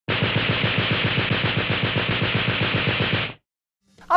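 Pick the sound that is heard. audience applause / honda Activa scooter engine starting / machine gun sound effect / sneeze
machine gun sound effect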